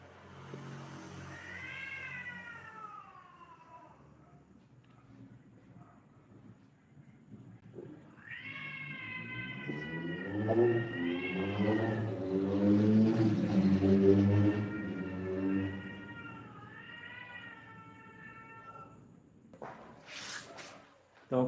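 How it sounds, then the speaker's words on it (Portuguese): A cat in heat caterwauls nearby with drawn-out, wavering yowls that rise and fall, swelling into a loud, sustained wail before tapering off. "tem um gato no cio agora aqui"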